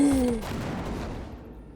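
A short burst of gunfire in the video game Cyberpunk 2077 opens fairly loud and quickly fades into a decaying tail, with no talk over it.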